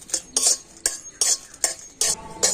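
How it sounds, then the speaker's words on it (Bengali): Two dry red chillies roast in an empty wok, a metal spatula scraping and clanking against the pan in about six sharp, regular strokes, close up with no talk. "প্রথমে আমি দুটো শুকনো লঙ্কা খালি কড়াতে দিয়ে দিচ্ছি লঙ্কা দুটো প্রথমে একটু ভেজে নেব"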